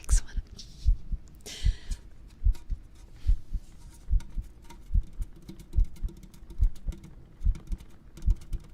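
Soft ASMR heartbeat thumps in a steady lub-dub rhythm, about a dozen low pulses repeating evenly and close up, with faint tapping clicks scattered above them.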